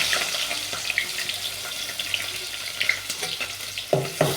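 Thin-sliced onions with seasoning go into two spoons of hot oil for egg chutney and fry with a steady hiss, a few sharper pops and clinks near the end, close and clear.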